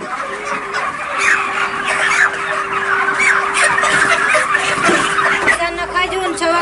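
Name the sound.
chicken clucking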